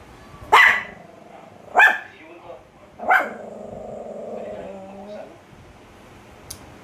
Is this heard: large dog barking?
yes